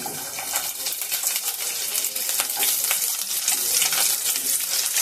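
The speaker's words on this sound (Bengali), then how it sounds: "গ্যাসের ফ্লেমটা লোতে রেখে কাঁচা লঙ্কা রসুনগুলো আমি একটু ভেজে নেব।" Green chillies and garlic fry in hot oil in a pan over a low gas flame. The sizzle is steady and close, with crackling pops all the way through and no voices.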